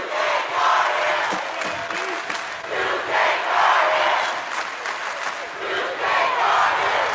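Loud crowd at a high school 2A basketball championship game roaring and cheering in waves. Chants and shouts swell and fade over several seconds, with announcers' voices faintly mixed in.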